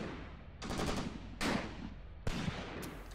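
Sustained gunfire from units in Graviteam Tactics, rapid overlapping rifle and machine-gun bursts with sharp cracks at regular intervals, loud and continuous without any voices.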